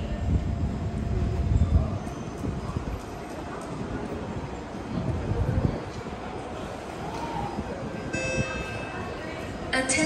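An SMRT C151 metro train rumbles and rattles steadily at a platform at Expo station, a continuous low roar with a public-address voice over it.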